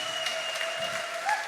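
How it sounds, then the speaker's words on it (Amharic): A church congregation claps steadily through a pastor's sermon, with sustained high, wavering ululation cries riding over the continuous applause. "እስቲ እልልታ ያለው ጭብጨባ ያለው ለዚህ ጌታ"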